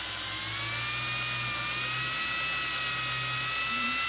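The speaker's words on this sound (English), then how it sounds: "Now again, we're not trying to sand the wheel, we're really just at this point trying to polish it." A pinewood derby wheel spins while extra fine steel wool is held against its edge to polish it, giving a steady high whirring drone with a faint low hum underneath, continuous throughout.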